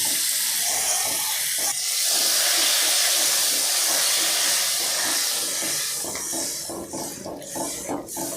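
Water is poured into a hot pan of sautéed pointed gourd and potato, setting off a loud, close hissing rush of steam that swells, then breaks into bubbling and spattering as it settles, with no talking.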